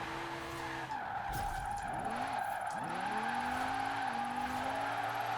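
A car drifting through snow in Forza Horizon 4, with a steady engine drone and rising, sweeping tire skids and squeals repeating as it slides, fairly quiet and without speech.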